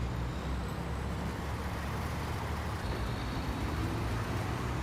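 A Kenworth truck in SnowRunner rumbles along as a continuous, dense, low engine and road roar with an even loudness throughout.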